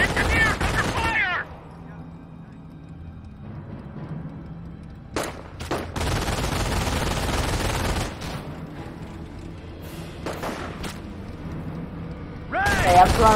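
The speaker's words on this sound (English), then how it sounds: "Engineer, under fire!" Bursts of gunfire in the Company of Heroes strategy game, loud rattling volleys broken by quiet gaps, with a player shouting excitedly between and over them.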